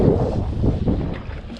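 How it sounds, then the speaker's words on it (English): A brief rush of strong wind blows hard against the microphone while fishing, a dense low rumble lasting under two seconds. "it's getting a bit windy"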